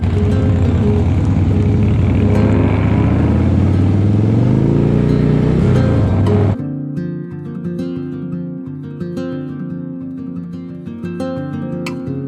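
A Harley-Davidson motorcycle's Milwaukee-Eight engine roars and revs loudly through the first half, rising in pitch as it passes, then cuts off abruptly into rhythmic music.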